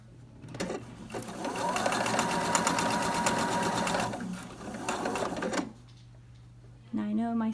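A sewing machine runs steadily for about five seconds, stitching floral farmhouse quilt triangle blocks. It is loud and close, with a constant hum underneath. A voice starts speaking just as the stitching stops.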